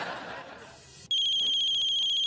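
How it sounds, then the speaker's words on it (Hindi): A telephone ringtone starts abruptly after a quiet moment in a TV comedy scene, a loud electronic tone pulsing in a steady repeating pattern, close and clear. "अरे यार फोन आया।"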